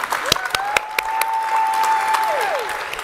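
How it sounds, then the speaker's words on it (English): Audience applause for a presenter at a live Web3 pitch festival, steady dense clapping across the whole stretch with a sustained feedback-like tone ringing through it and occasional sharper claps near the front. "Round of applause for Amanda from MetaGood."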